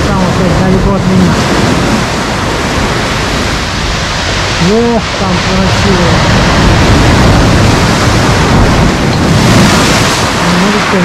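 Stormy sea surf rolls as a steady, loud broadband roar, with the waves far off, and someone talks over it throughout.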